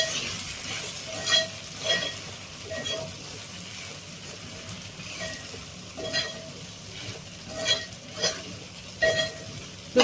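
Okra (ladies finger) frying in a pan, a soft steady sizzle broken by periodic scraping stirs and light clinks against the pan, fairly quiet and with no talk.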